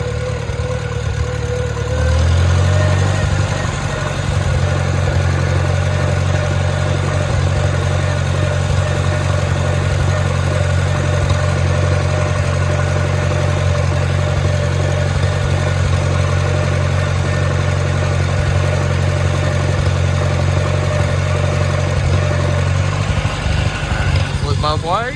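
A 1954 Farmall Super C tractor engine starts up and settles into a steady, loud mid-pitched running drone that holds unchanged for over twenty seconds before shifting slightly at the end.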